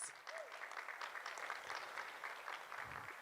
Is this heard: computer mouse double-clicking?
no